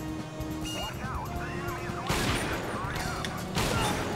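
Sniper gunfire in Konami's Silent Scope arcade game on Sega Dreamcast, a couple of sharp loud bursts cutting through busy game music and effects.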